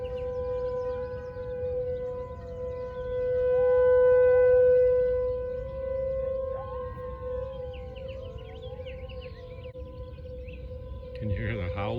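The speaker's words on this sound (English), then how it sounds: "Got the test sirens, or storm sirens" Outdoor storm test siren wailing from a distance across a river, a long sustained tone swelling and fading, with faint coyote howls drifting over it and a voice near the end.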